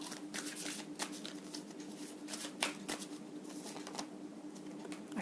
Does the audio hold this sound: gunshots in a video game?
no